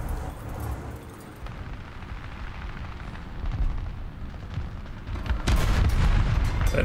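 Tank cannon fire rumbles through a War Thunder battle with a Swedish Pvkv IV tank destroyer, sustained low booming and engine roar, ending in one heavier close blast.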